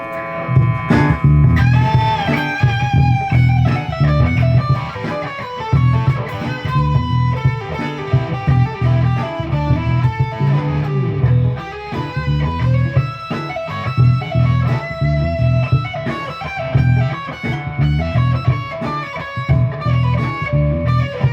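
An electric guitar solos with quick bluesy double-stop licks and bends over a classic rock progression, loud and continuous over a steady rhythm, no talking.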